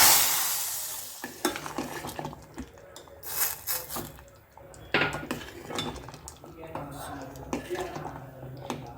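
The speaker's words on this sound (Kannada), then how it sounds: "ಈಗ ಇದಕ್ಕೆ ಕೊಬ್ಬರಿ ಎಣ್ಣೆ ಕಾಲು ಚಮಚ ಸಾಸಿವೆ ಇಂಗು ಹಾಕಿರೋ ಅಂತ ಒಗ್ಗರಣೆ ಇದ್ದೀನಿ" Mustard seeds and asafoetida temper in coconut oil in a pan, giving a bright sizzle with a spoon stirring and clinking against the metal in irregular bursts, close by.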